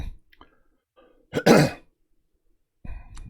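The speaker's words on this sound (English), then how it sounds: "so I don't sit here and cough and clear my throat all day long" A single rough throat clearing rings out close and loud in a quiet room, a short harsh burst that fades fast, followed by a faint low rustle.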